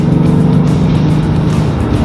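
A Mercedes-AMG GT S engine roars loudly and steadily, a deep, rumbling drone heard up close from start to finish with no talking.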